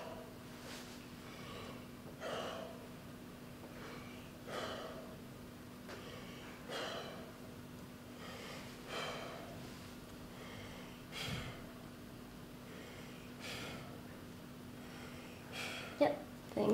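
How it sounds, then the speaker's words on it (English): A patient draws slow, deep breaths in and out through the mouth during a respiratory examination, about eight soft, even breath cycles heard close and quiet, with a faint steady hum beneath. "just deep breaths in and out through your mouth if possible"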